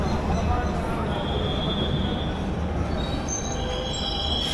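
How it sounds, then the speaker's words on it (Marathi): A passenger train bound for Banihal in Kashmir rumbles steadily nearby with a constant low drone and faint high wheel squeals, heard throughout without pause. "हां बनिहालला जाणारी ट्रेन आहे ही"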